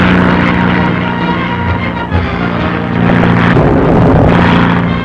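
A loud, steady propeller engine of a scout plane catapulted from a battleship roars throughout, swelling slightly near the end as the plane gets under way.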